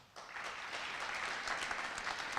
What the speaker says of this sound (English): if you could hold your applause